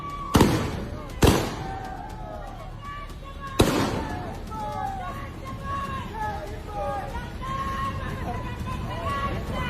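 Three sharp booming bursts in quick succession, then a crowd's noisy chatter and cheering fills the air with scattered pops underneath.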